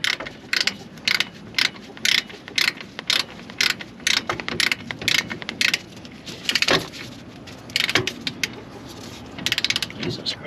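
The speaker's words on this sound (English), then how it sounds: "Little 3/8 torque wrench is perfect for this." A 3/8-inch torque wrench ratchets on trailer electric brake bolts, giving close bursts of rapid clicking in an uneven rhythm with short pauses and a few heavier knocks, while a voice briefly talks in the background.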